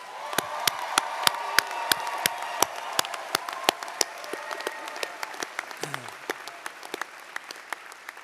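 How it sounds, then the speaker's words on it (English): At a college of pharmacy commencement ceremony, the crowd applauds the graduating class. Steady clapping from the hall runs throughout, with sharp, loud individual claps standing out close by at a regular rhythm. "How about we give this entire class another big round of applause?"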